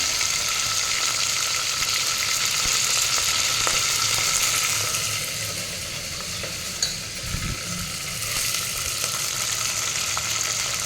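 Fenugreek leaves frying in a pan with curry leaves and onion while making drumstick sambar, giving a steady close sizzle with light stirring scrapes and no talk.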